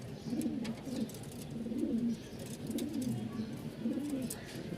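Pigeons in a fancy-breed loft coo softly in repeated low, throaty phrases, several calls in a gentle rhythm, fairly faint and close with no talking.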